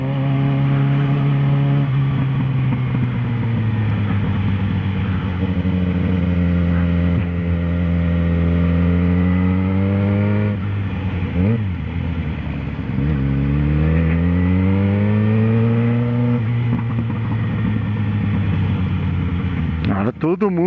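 Heavy rush-hour traffic in Guará, Brazil, recorded from a Yamaha XJ6 motorcycle filtering between cars, with a loud, close engine droning and rising and falling through revs, plus passing vehicles around it.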